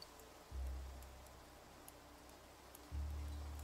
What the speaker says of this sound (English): that rain is really making things difficult